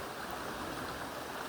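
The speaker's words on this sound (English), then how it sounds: "the stream where the water flows around all the rocks" Water in a forest stream flowing smoothly around rocks, a steady close wash of rushing, burbling water with no pauses.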